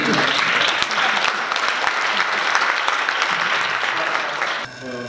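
Audience applause at a university research society forum, a full, steady round of clapping from the room that breaks off abruptly near the end, followed by a voice starting to speak.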